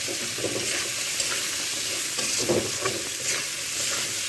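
Crab pieces coated in chilli powder, salt, turmeric, green chilli, pepper, cumin and garam masala paste frying in a pan, with a steady hiss and scraping stirs at irregular intervals, close and moderately loud, no talking.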